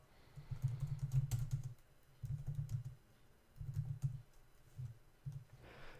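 Bursts of quiet keystrokes come from a computer keyboard, typed in four or five short clusters with brief pauses between them, close and alone with no talk.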